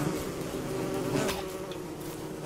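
Bees buzz in the video game Don't Starve Together, a close, continuous droning hum that swells slightly midway, with no voices.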